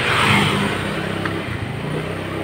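A motorcycle engine drones and revs close by on a village road during a morning ride, a steady loud mid-pitched motor sound with slight pulses in speed and no talk.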